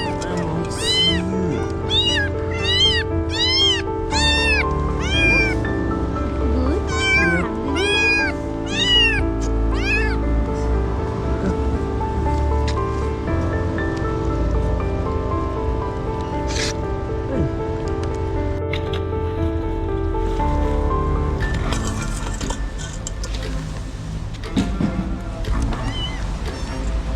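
A stray kitten meows repeatedly in a series of clear, high cries over a steady background wash, close by, with the calls clustered early and then giving way to rustling and handling sounds.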